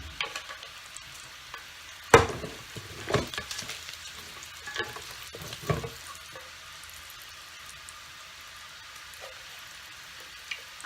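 Bacon sizzles faintly and steadily in a pan, broken by scattered clanks and scraping of a utensil, with no one talking.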